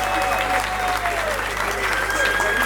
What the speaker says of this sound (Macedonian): Аплауз, команда!